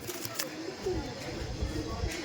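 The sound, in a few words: imported Kamagar pigeons cooing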